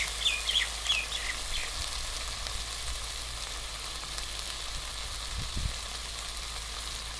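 Fish head frying in hot oil with fried onions, a steady broad sizzle throughout, close and even, with a few faint chirps near the start and occasional soft stirring knocks.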